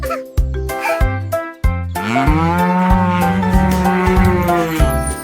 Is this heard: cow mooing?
yes